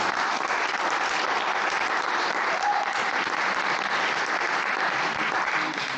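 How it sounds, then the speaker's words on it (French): A church congregation applauds during a worship service, a dense, continuous roar of many hands clapping that stays loud and even from start to finish, with no clear speech over it. "Vous pouvez applaudir le Seigneur Jésus."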